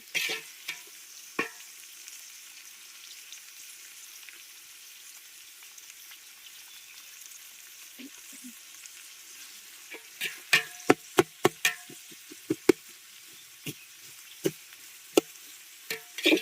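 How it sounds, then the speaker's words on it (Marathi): Onions frying in oil for a village chicken party, stirred at first to a soft continuous sizzle, then sharp scattered clicks and knocks of a utensil against the pan, close and irregular, with no voices. "आता जेवण्या मस्त कांदा ढवलतोय कांदा लाल पर्यंत ढवळायला लागेल"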